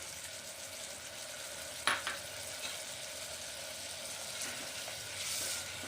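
Tamarind pulp sizzles in a pan with green chillies and curry leaves for sambar, a steady soft frying hiss with a couple of sharp clinks of a spoon stirring.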